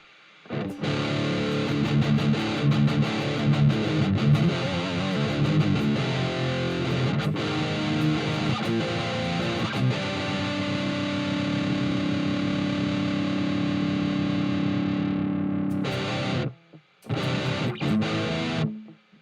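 Distorted electric guitar played through a Diesel amp plug-in from Audio Assault, metal-oriented tone: sustained, dense chords ringing for about fifteen seconds, then a brief gap and a short final burst, with no talking.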